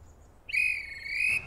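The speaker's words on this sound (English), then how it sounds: "He heard the guard's whistle." A train guard's whistle in an animated railway story sounds one shrill, steady blast that starts abruptly after a quiet moment and holds for about a second, loud and close, with no talking.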